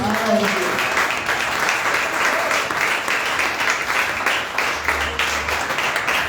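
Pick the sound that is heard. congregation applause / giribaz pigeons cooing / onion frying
congregation applause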